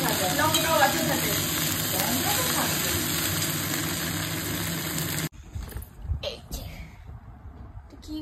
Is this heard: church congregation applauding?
no